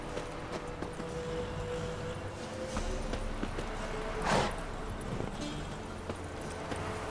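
Horses clip-clopping in The Witcher 3: Wild Hunt, with hoofbeats steady at middling distance over a continuous game ambience.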